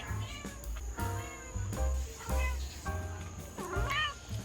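A domestic cat meows repeatedly for food, several loud, close, drawn-out meows in uneven succession with short pauses between them.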